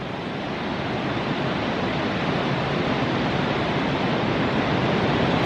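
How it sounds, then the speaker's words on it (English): Heavy rain pours down outside in a dense, steady roar of hiss that barely changes from start to finish, with no voices over it. "I literally just walked in the door and now it is pouring down rain"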